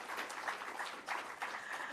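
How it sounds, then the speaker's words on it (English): Applause rises from an audience at a public sector debate competition launch. It is a quiet, steady wash of clapping heard at a distance, with faint voices mixed in. "Please give them a round of applause."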